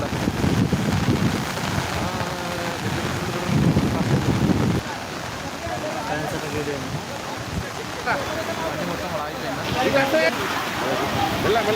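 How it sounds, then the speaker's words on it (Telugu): Heavy rain pours steadily during the Telangana floods, a dense continuous wash of falling water with some louder surges, heard close and loud throughout. "రికార్డు స్థాయిలో వర్షం కురిసింది."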